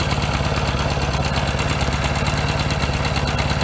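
A 1964 Royal Enfield Interceptor Mk1 motorcycle engine idles close by, with a steady, even thumping pulse and a mechanical rattle throughout, alone with no voices.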